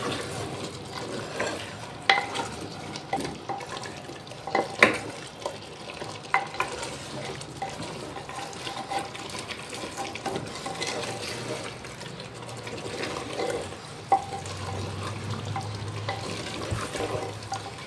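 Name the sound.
stirring and mixing katwa gosht in pot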